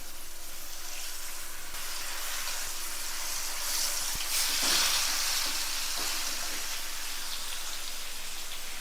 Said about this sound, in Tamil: இதே போல் நம்ம எல்லா மீனையும் இந்த அளவுக்கு ஃப்ரை பண்ணி எடுத்துக்குவோம்.